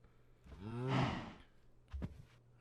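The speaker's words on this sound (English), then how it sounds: "There's cows around somewhere. I don't know where they are. I can hear them." Cows mooing in the Minecraft video game: one long, drawn-out moo swelling and fading, followed by a shorter low grunt-like moo, heard alone with no talking.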